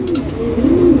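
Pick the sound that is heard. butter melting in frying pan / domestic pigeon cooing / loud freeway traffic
domestic pigeon cooing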